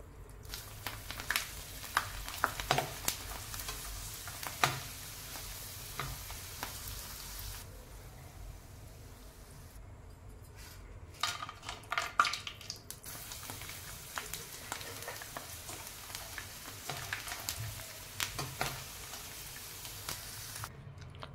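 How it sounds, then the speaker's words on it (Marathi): Dried rice sticks frying in hot oil give a soft, steady sizzle with scattered crackles and pops throughout, heard close and fairly quiet, with a brief quieter patch in the middle. "आता आपण त्या तळून बघणार आहोत। तेल चांगलं गरम केलेलं आहे।"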